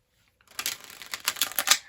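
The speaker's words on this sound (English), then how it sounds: "we're going to get one more good shuffle here for the Cancerians" Tarot cards are shuffled by hand in a rapid burst of crisp riffling clicks and flicks that start abruptly after a brief silence and continue for over a second, close up and unaccompanied by talk.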